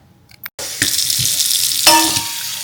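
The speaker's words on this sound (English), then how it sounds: "Add my potatoes, give them a good wash." Potatoes being washed under a running kitchen tap, a steady rush of water splashing into the sink with a brief knock and a louder surge near the end, heard alone.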